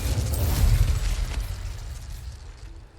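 Incendio fire spell cast in the video game Hogwarts Legacy, a heavy low whooshing burst of flame that swells at once and then fades over a few seconds, with no talking.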